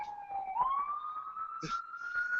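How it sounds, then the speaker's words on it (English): A police siren passes outside, its steady electronic wail climbing slowly in pitch and holding clear and fairly loud from start to finish, with faint background noise beneath it. "I keep trying to move where there's no sirens."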